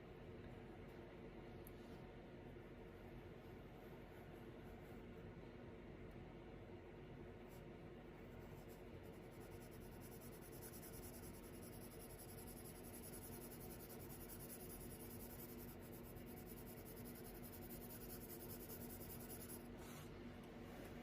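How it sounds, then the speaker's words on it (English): A pencil held on its side shades dark areas of a self-portrait on paper, giving a steady, soft scratchy rubbing that runs close and continuous throughout with no talking. "using the side of my pencil."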